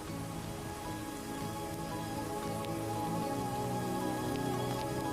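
Steady rain falls across the Serengeti, a dense, even hiss of drops on the ground that holds constant throughout with no voices.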